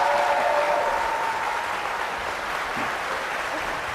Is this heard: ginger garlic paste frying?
no